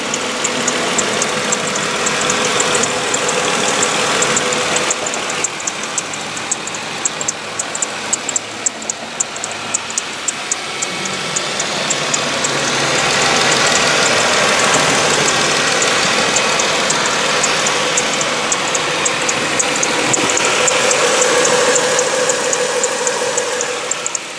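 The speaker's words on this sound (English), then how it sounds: "So I'll be quiet now so you guys can actually listen to the motor." A 2004 Dodge Intrepid with a 2.7 liter V6 running at idle, a steady close mechanical hum with a fast ticking rattle on top, swelling slightly partway through, with no talk over it.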